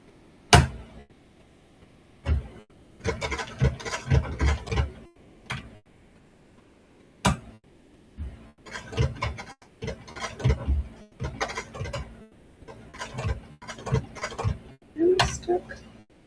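A sewing machine stitches in repeated bursts of rapid mechanical ticking, each run lasting a second or two and separated by quiet pauses, with sharp isolated clicks between runs.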